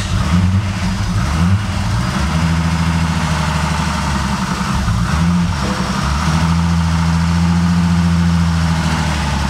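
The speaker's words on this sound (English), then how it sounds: "Let's see if it'll actually start and burst into life. Well, starts but doesn't want to idle." Nissan R33 Skyline GTS4 with an RB30DET engine running right after starting, its rough, uneven idle rumbling loud and close, wavering and dipping as it struggles to stay running.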